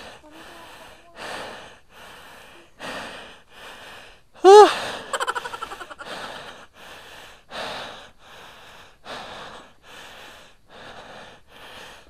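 Heavy, rhythmic panting from a person catching their breath after climbing a steep slope, close and loud, with repeated rasping breaths and a sharp gasping snort partway through.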